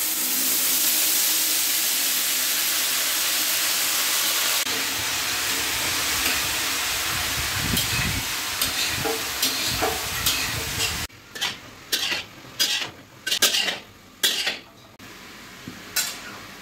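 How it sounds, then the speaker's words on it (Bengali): Ghee sizzles in a hot pan for tempering while chickpeas and paneer are prepared, a broad steady hiss that later gives way to several sharp clinks and scrapes of a utensil against the pan. "এবার আমরা ঘি দিয়ে দিচ্ছি ফোড়নের জন্য"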